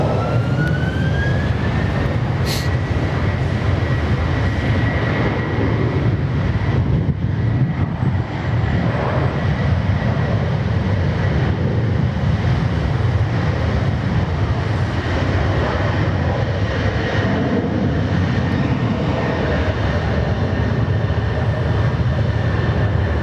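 An airliner takes off at Sydney Airport, its engine roar a loud, steady broadband rumble that holds throughout with no talking.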